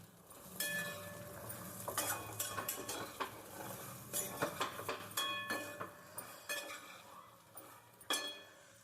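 A metal spoon stirs spice powders and masala into a brinjal curry in a pan, giving repeated sharp scraping clinks and taps in an irregular rhythm, close and fairly quiet, with no talking.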